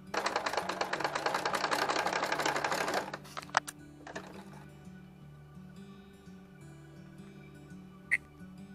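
A sewing machine rapidly stitches a queen-size big-block quilt in a dense, loud mechanical run for about three seconds, then stops, followed by a few faint clicks and handling noises over a low background hum.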